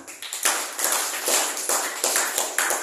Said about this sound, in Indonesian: kita kasih aplaus untuk kelompok pertama